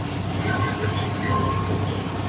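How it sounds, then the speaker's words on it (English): A small park ride train rolls along its rails nearby, with a steady rumble of wheels and high metallic squealing that sounds continuously throughout. "Nice little train ride around the park."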